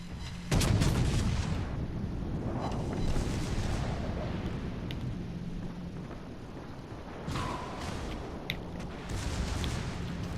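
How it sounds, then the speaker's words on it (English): Battleship guns fire in the naval video game World of Warships Legends, a heavy booming salvo followed by rumbling echoes and later further thuds, loud and close over a constant low background drone. "Concentrate fire on the enemy warship."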